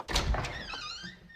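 A door opens with a heavy thunk followed by a brief squeaky scrape as it swings, close and short, in a quiet room.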